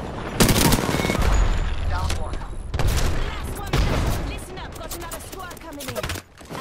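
Heavy gunfire in Apex Legends on PS4: rapid automatic bursts and sharp single cracks repeat over several seconds, loud and close, with pauses between volleys and a player voice talking in between.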